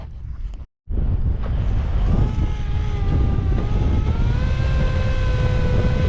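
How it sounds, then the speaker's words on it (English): Strong 20 mph wind at Bartlett Reservoir roars and buffets steadily after a brief dropout, with a faint droning engine tone rising through the gusty rush. "Yo, that's some wind."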